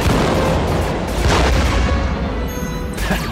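Starfighter blaster fire in Disney Infinity 3.0 Star Wars combat against vulture droid starfighters, a loud continuous barrage of booming shots and explosions layered over each other.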